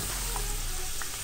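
A ground beef pastel fries in hot oil with a steady, close sizzle and bubbling, a few small pops rising above the continuous crackle.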